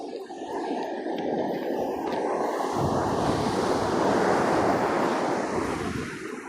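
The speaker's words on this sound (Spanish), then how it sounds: "Voy a tratar de acercarme a ahí donde revientan las olas." Ocean waves break below the cliffs of the Quintero peninsula in a continuous, loud surf roar that swells toward the middle, with steady wind buffeting the microphone and no voices.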